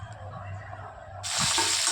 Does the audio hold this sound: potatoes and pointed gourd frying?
yes